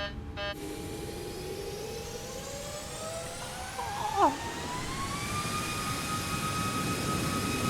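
Jet engines on a 737 MAX 8 in a flight sim game spool up toward takeoff power, a steady roaring whine with rising tones climbing in pitch, loud and continuous apart from a brief click at the start.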